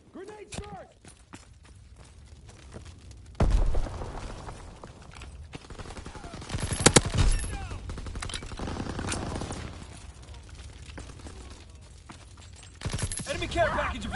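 Call of Duty WWII gameplay brings a grenade strike and gunfire as scattered sharp bangs and bursts of shots, with the loudest hits near the middle and end over a low background of battle noise.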